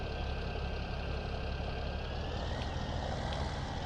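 A tractor engine in Farming Simulator 17 runs at a steady, low idle-like drone. It stays constant and fairly quiet throughout, with no talk.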